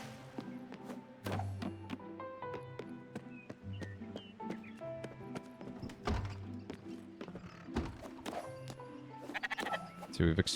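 Sheep bleat in the video game Spiritfarer, short cartoonish calls scattered over a busy game soundscape with thumps, clip-clop steps and music-like tones, moderately loud and repeated throughout.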